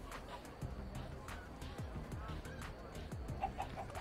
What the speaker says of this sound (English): After I watch one more chicken get owned.